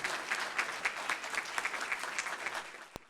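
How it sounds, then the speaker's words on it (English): A conference audience at an opening ceremony applauds, with brisk, even clapping from many hands at moderate distance and one sharp knock near the end. "Let us give a even more rousing applause for good."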